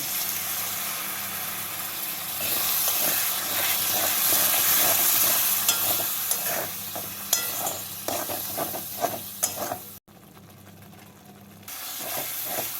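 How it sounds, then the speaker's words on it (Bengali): Spice paste of ground green chilli and Kashmiri red chilli powder frying and being stirred with a little water in a pan, a steady steamy sizzle with repeated scraping stir strokes, loud and close, briefly dropping away near the end. "অল্প জল দিয়ে মশলাগুলোকে কষিয়ে নেব।"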